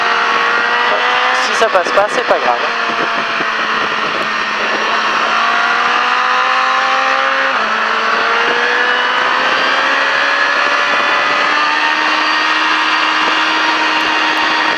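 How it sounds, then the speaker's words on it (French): Racing motorcycle on a circuit during a track riding course, its engine pitch climbing steadily through gear changes as it accelerates, loud and close, with someone speaking briefly early on. "là on relève bien la moto et on accélère."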